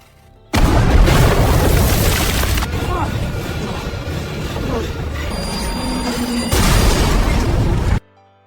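A loud, sustained blast and roar of a C4 explosion destroying a bridge dominates, with rumbling debris and a second surge before it cuts off abruptly.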